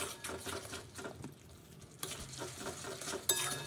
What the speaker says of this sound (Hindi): भालो करे मसलाटाके एबार आमी कषे नेब